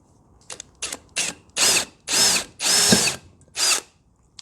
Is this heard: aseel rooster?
no